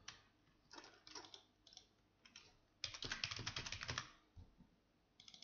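Typing on a computer keyboard while entering server and user details into business software, with quiet scattered bursts of key taps that swell into a dense, steady flurry in the middle before trailing off.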